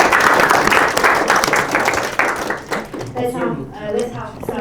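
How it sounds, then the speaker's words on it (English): A seated audience at an alumni talks event in Almaty claps loudly and densely for a few seconds, then the applause thins out as a voice starts speaking. "Give it applause to Beket."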